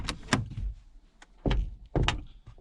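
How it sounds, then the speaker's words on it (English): A few solid thunks of a car door shutting close by in total darkness while car camping, with quieter clicks and rustles between the slams. "If I shut the door here"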